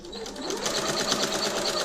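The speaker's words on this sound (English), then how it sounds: "secure the stitches by stitching back and forth with your machine" A sewing machine runs steadily, stitching the fabric layers of a homemade face mask with elastic hair bands, a close, continuous mechanical whir with no pauses.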